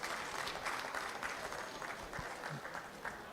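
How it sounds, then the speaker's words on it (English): Faint, distant applause from delegates at a national delegates conference welcoming guests, a steady patter of clapping in a large room with occasional louder claps. "Please, let's welcome them with a round of applause."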